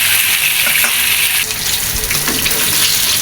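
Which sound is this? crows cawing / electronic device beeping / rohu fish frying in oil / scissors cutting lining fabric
rohu fish frying in oil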